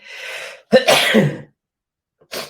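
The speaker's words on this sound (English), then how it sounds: "I had a sneeze" A single loud sneeze with a sharp intake and burst, followed by a brief silence and a short throat-clearing sound.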